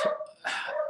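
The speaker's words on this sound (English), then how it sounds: "Sorry about the dogs in the background if you hear that" Two short dog barks sound in the background, muffled and moderately loud, with no talk over them.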